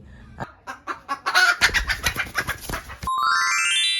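Laying hens on a farm giving a run of sharp, rhythmic clucks close up, about a dozen pulses over a few seconds, before a bright musical tone takes over at the end.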